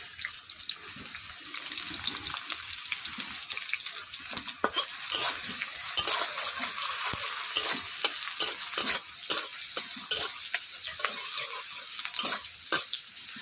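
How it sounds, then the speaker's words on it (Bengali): Chopped onions sizzle and crackle in a hot pan, with repeated scraping stirs breaking through the steady hiss; no one speaks. "ওই কুচানো পেঁয়াজগুলোকে এখন ভেজে নিচ্ছি ভালো করে"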